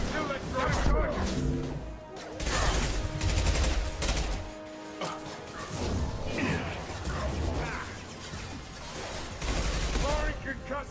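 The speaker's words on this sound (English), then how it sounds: "Firing concussive shot." Mass Effect 2 combat with concussive shots and gunfire: dense, loud bursts of shooting and impacts roll on continuously with music-like tonal layers underneath and brief dips between volleys.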